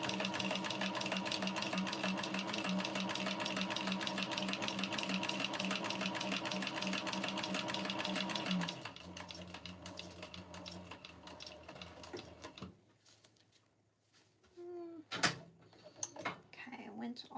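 A sewing machine stitches and backstitches a tote bag in a long, steady, rhythmic run that shifts to a slower pace and then stops. Soft handling clicks and thumps follow, and a voice talks over part of it.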